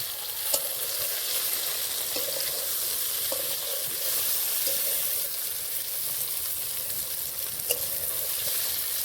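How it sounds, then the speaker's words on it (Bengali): Constant hissing sizzle of eggplant frying in a pan, with occasional soft clicks of a utensil against the pan, no voices. "উল্টে পাল্টে ভালো করে বেগুনগুলো ভেজে নিতে হবে"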